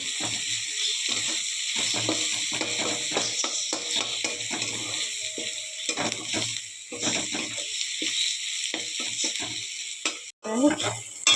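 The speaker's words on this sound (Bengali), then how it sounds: "আদা রসুন দিয়ে দিলাম এটাও একটু ভাজতে হবে" Ginger and garlic paste fries in a pan for chicken curry, a rapid crackling sputter in short bursts with gaps between, close up, ending in a louder clatter.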